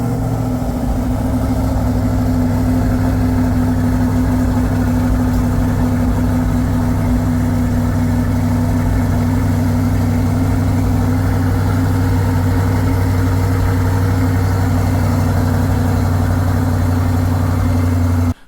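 A 2023 Corvette C8 Stingray 1LT idles with its exhaust set to the loudest mode, a deep, steady, loud rumble that holds evenly for the whole stretch with no speech over it.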